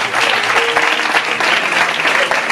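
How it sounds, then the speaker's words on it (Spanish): Church congregation breaking into loud, close applause during a sermon, a dense continuous clatter of many hands clapping with a few brief tonal sounds rising above it. "Vamos a dar un aplauso al Señor, por favor."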